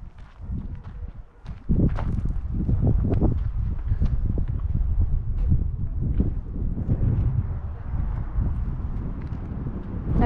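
Strong wind blows outdoors beside a castle, a steady low rumble buffeting the microphone, with footsteps crunching nearby.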